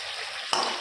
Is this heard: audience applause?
no